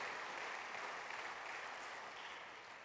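A church congregation claps during a sermon, producing a dense, even wash of applause that holds steady and fades slightly toward the end, with no voices.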